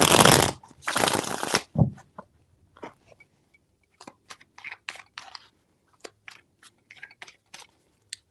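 Tarot cards being shuffled by hand in a reading, a loud riffling burst at the start followed by a series of short, crisp card taps and flicks in an irregular rhythm, close up with no talking.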